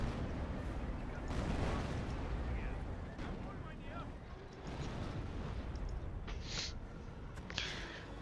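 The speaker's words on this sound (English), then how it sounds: "Creeping barrage trying to wipe out the mortar half-tracks" British creeping artillery barrage in the Company of Heroes strategy game, a dense rumble of continuous shell blasts and explosions with sharp hissing bursts near the end, loud and sustained under a commentator's voice.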